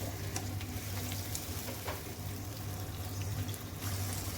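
Onions frying in a hot pan for chana dal pulao, a faint, even sizzle with light crackle running throughout and no talk.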